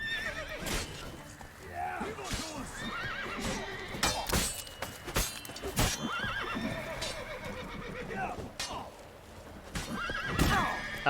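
A horse in The Witcher 3 whinnies several times while its hooves clip-clop in bursts, mixed with game sounds and someone talking over the gameplay.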